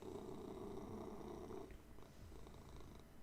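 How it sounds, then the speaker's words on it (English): Soft, rumbling purr of a cat, close and steady, fading slightly partway through, with no talking. "the cat is kind of like on my lap now"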